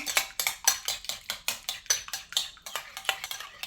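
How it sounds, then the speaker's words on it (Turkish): A tablespoon of yogurt is whisked into a cookie sauce in a bowl, a close, brisk run of about fifteen rhythmic metallic clinks and scrapes at an even pace. "Bir yemek kaşığı yoğurt ile güzelce çırpıyorum."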